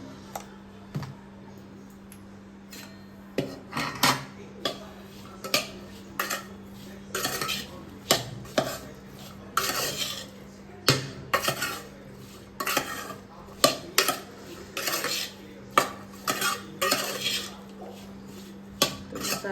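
A utensil scrapes and clinks against a metal pan in repeated strokes, stirring spices into okra in a steady rhythm, with a low hum in the background.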